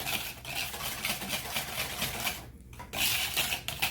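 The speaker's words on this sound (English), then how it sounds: "Then we're gonna use the wire whisk to mix the pudding" A wire whisk stirs pudding mix into milk in a bowl, giving a steady busy scraping and rattling that runs throughout with one short pause.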